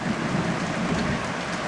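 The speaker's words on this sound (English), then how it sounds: "That's a lot of rain." Heavy thunderstorm rain pours down around a race boat, a dense, steady roar of drops hammering surfaces with a low rumble beneath, loud and continuous throughout.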